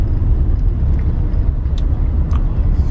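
Heavy road traffic on a drive to a flea market is heard from inside a car as a steady low rumble, with faint brief sounds above it.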